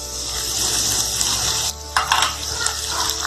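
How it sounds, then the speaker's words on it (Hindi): Ginger garlic paste frying in a pot for beef yakhni pulao, a steady close hiss and sizzle with brief stirring scrapes and a sharper burst of spattering partway through. "और साथ ही इसमें डाल देंगे अदरक लहसुन का पेस्ट।"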